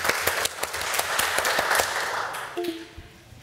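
Brief applause at a Swedish municipal council meeting: a burst of hand claps from a modest group that thins out and fades after about two and a half seconds, leaving a faint hum.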